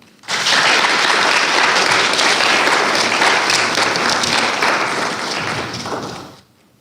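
An audience bursts into sustained, dense applause after a speech, the clapping holding loud and even for about six seconds before tapering off.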